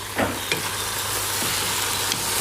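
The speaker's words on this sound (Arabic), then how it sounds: "حمصت البهارات مع مع البصل. الحين نزلت الدجاج." Chicken pieces fry in a pot with toasted spices and onion, giving a steady close sizzle with a few soft clatters of stirring or shifting, no voices.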